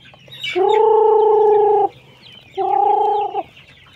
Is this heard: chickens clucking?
yes